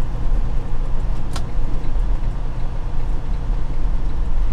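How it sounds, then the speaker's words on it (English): Trucks on a rail yard in Kalispell, a steady, loud, broad rumble of heavy rolling and engine noise that carries on without a break, with one sharp click partway through and no voices. "Lovely trucks on the yard today."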